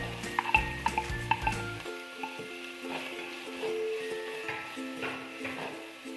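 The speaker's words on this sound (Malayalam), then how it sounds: "ഒരു സവാള നീളത്തിൽ കട്ട് ചെയ്തതാണ്, അതുകൂടി ഇതിലോട്ടേക്ക് ആഡ് ചെയ്ത് കൊടുക്കാം" Lengthwise-cut onion slices hit hot oil in a pan and are stirred, giving clattering scrapes at the start and then a soft, continuous sizzle with occasional stirring sounds.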